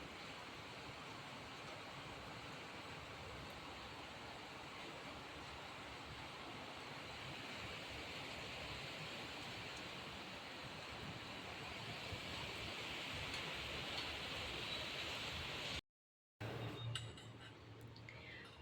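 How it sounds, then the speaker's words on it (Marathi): Steady rain falls continuously, a dense, even hiss that holds through the whole stretch without voices, swelling slightly near the end before a brief dropout and a rougher patch. "पाऊस सुरू झालाय आहे पाहू शकता कसं पडतोय"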